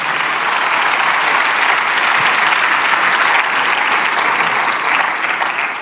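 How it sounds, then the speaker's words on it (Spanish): Church congregation applauding together, a dense, even wash of clapping from a large crowd that holds steady at full strength for several seconds before easing slightly at the end, with no voices heard. "La Biblia merece un aplauso."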